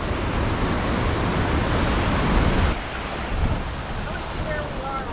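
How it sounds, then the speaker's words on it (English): Loud, steady rushing of water at a lock on the Ohio and Erie Canal, a dense broadband roar that drops slightly midway but continues unbroken, close to the microphone. "The sound of the water is so loud."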